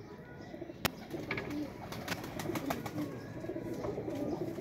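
Pigeons kept for flying cooing softly at moderate distance, repeated low coos and a few sharp chirps over faint ambient background, no speech.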